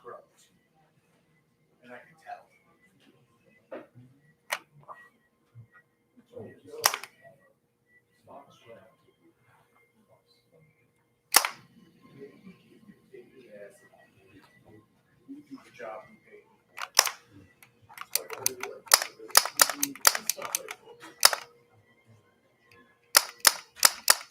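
Arcade shooting video game gunfire in a home arcade setting, with sharp bursts of shots coming in scattered singles and then dense rapid volleys near the end, alongside people talking.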